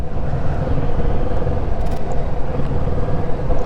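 Kawasaki Z650 motorcycle under way, its engine a steady, loud low rumble with continuous road and wind noise close by, no voices over it.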